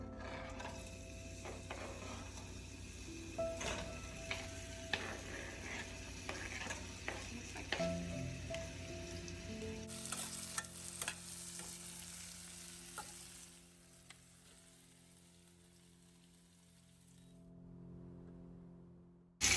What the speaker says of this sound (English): Okay, I'm going to add onions.